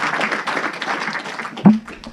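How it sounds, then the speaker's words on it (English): A theatre audience at a film screening Q&A claps in a brief, dense patter of applause lasting about two seconds, with a single louder knock near the end. "signify with a round of applause"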